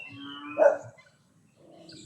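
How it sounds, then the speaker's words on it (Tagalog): A dog barks once at moderate distance at the Lyger zoo in Pililla, Rizal, a short single bark amid quiet outdoor background with faint chirps. "May mga aso rin sila rito,"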